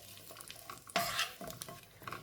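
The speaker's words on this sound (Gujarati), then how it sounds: "ધીમે ધીમે પાકતા જવાનું, મિક્સ કરતું જવાનું." Khajur (date) biscuit mixture stirred in a pan over low heat, a soft scraping stir with gentle sizzling underneath and one louder scrape near the middle, close and fairly quiet.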